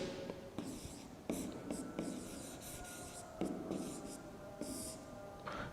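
Chalk or marker scratching out handwritten steps of a chemistry mechanism in a lecture, with short bursts of rasping strokes separated by brief pauses, close and quiet.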